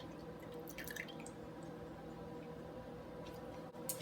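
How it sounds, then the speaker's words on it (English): Half and half, a mix of milk and heavy cream, pours from a measuring cup into a bowl of eggs, a faint liquid trickle with soft drips and light splashes against low background hum, no talking. "now it's time to add in our milks"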